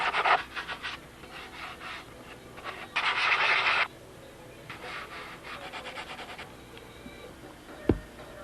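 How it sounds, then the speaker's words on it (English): A sanding block scrapes back and forth over a wooden model airplane tail part in uneven bursts of rasping strokes, with a louder sustained stretch midway and a single knock near the end. "what I'm going to do is just reverse everything and block sand this side in"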